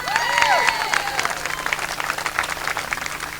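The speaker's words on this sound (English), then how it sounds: "give yourself a round of applause because we did it" Audience applause and cheering from a crowd, a dense steady wash of clapping with a few whoops and whistles near the start, sustained at moderate volume throughout.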